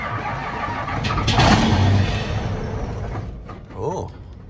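A skidder's engine cranks and turns over outdoors, a loud rising rumble that builds over about two seconds and then settles, followed by a brief second surge near the end.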